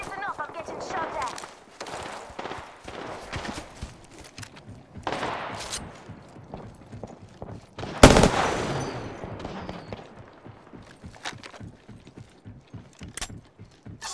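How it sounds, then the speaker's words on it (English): Gunfire in Apex Legends crackles in bursts of rapid shots amid footsteps and game noise, with one loud close blast midway, while a person talks over much of it. "I'm getting shot at"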